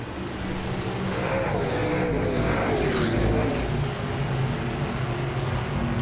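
Modified race cars battling on the oval at Langley Speedway, a dense roar of several engines passing close and loud, swelling briefly then holding steady, no voices.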